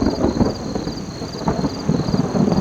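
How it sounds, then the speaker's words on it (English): Thunder rumbles low and continuous through a strong thunderstorm during storm camping, with heavy rain and wind hissing steadily around it, close and loud, and no voices. "lots and lots of thunder."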